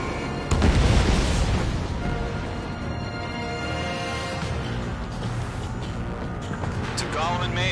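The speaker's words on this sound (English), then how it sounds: "Mage 2, missile away." Missile launch and explosion in the Ace Combat 7: Skies Unknown flight game, a loud burst followed by a sustained rumbling roar, with radio chatter voices talking over it.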